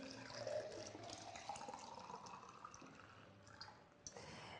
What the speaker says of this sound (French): je vais commencer par mesurer les 45 centilitres d'eau tiède